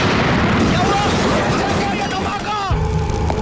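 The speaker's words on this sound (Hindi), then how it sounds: "धमाका मैंने किया पप्पू शिकारी" Explosion in a Hindi film scene: a broad, booming blast with rumbling debris that lasts a few seconds, then cuts sharply to a quieter tail.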